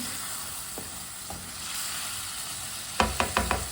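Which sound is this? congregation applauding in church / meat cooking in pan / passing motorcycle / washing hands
meat cooking in pan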